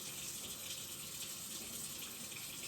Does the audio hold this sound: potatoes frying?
no